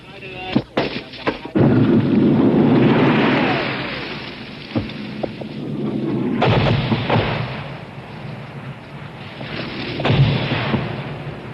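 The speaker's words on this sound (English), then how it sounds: "The platoon leader radios for artillery support from U.S. gun emplacements a few miles away." U.S. artillery fire from gun emplacements a few miles away, heard as several loud booming blasts early on, then rolling rumbles and further heavy thuds around the middle and near the end, with a battlefield hum between.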